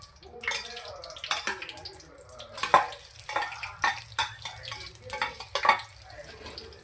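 Masala for prawn ghee roast stirred in a pan with bay leaves, a string of close scraping and clacking strokes over a soft sizzle, with a voice talking underneath.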